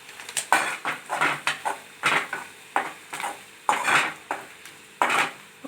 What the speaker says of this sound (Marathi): सगळं छान परतून घ्यायचं आहे। गॅस बारीक ठेवूनच परतून घ्यायचं आहे आपल्याला।